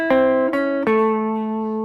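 Country swing guitar lick played an octave lower, three plucked notes picked in quick succession, with the last one left ringing and sustaining, close and clear, with no one talking.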